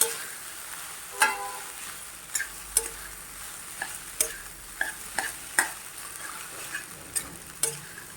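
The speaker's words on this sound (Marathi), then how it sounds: "तुम्ही असं पण कैरी टाकून परतू शकता" Leftover cooked rice and raw mango are stir-fried in a pan, with a quiet continuous sizzle under regular sharp scraping taps of a spatula, some ten strokes spread evenly across the stretch.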